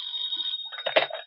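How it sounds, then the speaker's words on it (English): A telephone bell rings loud and close, a sustained bright ring that fades into a burst of rattling clatter near the end. "pick that other phone off the hook, Dollar."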